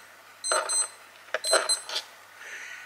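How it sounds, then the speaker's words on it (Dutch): A watch gives off a few short, bright electronic beeps in quick bursts, close and fairly loud, in an otherwise quiet room with no talking. "En dat is een horloge die ik hoor."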